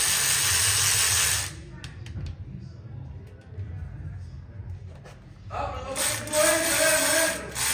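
Mechanical ratcheting on exhaust header bolts during a Nissan Titan header install on an Infiniti M45x, loud bursts at start and end with quieter clicking and shop noise between.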